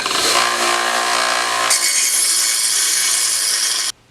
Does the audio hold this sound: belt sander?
yes